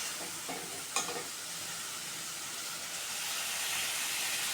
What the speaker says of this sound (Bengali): মশলার সাথে মাংসটাকেও কষিয়ে নিতে হবে।